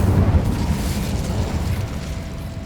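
Incendio fire spell cast in Hogwarts Legacy, a dense burst of low rumbling flame that swells at the start and then roars steadily at high volume, with no voices.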